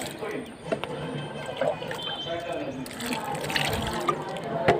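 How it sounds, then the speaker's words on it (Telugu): Water is poured into a muddy mixture made for raising fly larvae as poultry feed, giving a close, uneven trickle and splash with a few clunks. Speech can be heard mixed in. "కొంచెం వాటర్ పోస్తున్నా"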